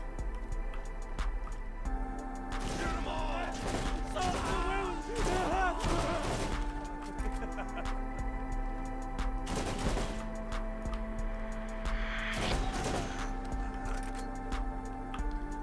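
A burst-fire weapon shooting two-round bursts during a range test in Borderlands Remastered: several loud clusters of quick shots separated by pauses, over a constant droning game-ambience hum.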